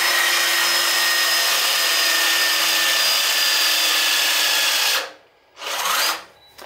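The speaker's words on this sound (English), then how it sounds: "we've got our BTM 1000 lithium gun set to 270 foot-pounds" A HYTORC BTM 1000 lithium torque gun set to 270 foot-pounds tightens flange nuts over an insulating kit, a loud steady motor whine lasting several seconds, then a brief stop and one more short burst.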